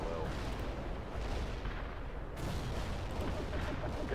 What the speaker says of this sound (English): Command reports the missile has been launched.